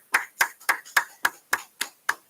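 Eight sharp, evenly spaced claps in a steady rhythm, loud and close, with no talk over them, at a Houston-area Israelite School of Universal Practical Knowledge gathering.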